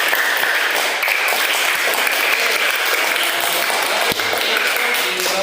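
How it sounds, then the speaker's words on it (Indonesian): Classroom applause for student groups, a dense, loud wash of many hands clapping steadily throughout, with a faint tap partway through and no talk over it. "Jadi kita beri aplaus dulu untuk kelompok A dan kelompok B."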